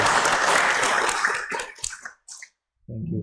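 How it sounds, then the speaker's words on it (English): Applause from a Buddhist Sunday service congregation welcoming newcomers, a steady wash of many hands for about two seconds that thins out, followed by silence and then a voice. "Let's give them an applause for welcoming."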